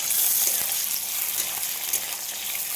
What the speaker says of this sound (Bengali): গাজরটা প্রথমে দেবো, কারণ হচ্ছে গাজরটা তো একটু শক্ত, ভাজতে একটু টাইম লাগবে